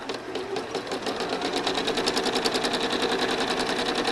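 A home sewing machine quilting loops with rulers runs in a fast, steady mechanical whir, starting a touch softer and then holding an even, close, continuous rhythm.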